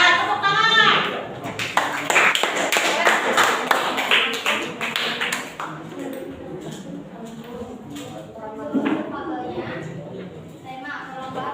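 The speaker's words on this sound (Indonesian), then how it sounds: "Nah, tepuk tangan." Hands clapping in a run of sharp, rhythmic claps early on, fading into softer scattered taps while a voice speaks over the latter part.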